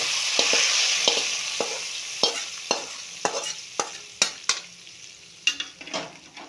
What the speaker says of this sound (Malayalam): താളിപ്പ് ഇതിലോട്ട് ഒഴിച്ചു കൊടുക്കണേ